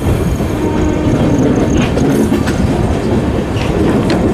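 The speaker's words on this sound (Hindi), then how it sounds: "बस अराइवल चल रहा है मोतीबाग का एल्को लोकोमोटिव।" An ALCO diesel locomotive pulls a train into Motibagh station, a loud, continuous rumble of rolling wagons with rhythmic wheel clatter over rail joints and faint metallic squeals, close by and with no voices.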